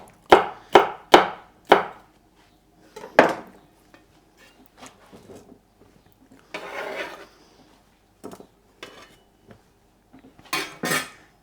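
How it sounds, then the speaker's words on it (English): Knife chopping vegetables into strips on a board: a fast run of four sharp cuts, then scattered single knocks and softer scraping, a longer rubbing slide, and a final pair of loud cuts. "the other one I'll just cut into strips, so I'll cut them across"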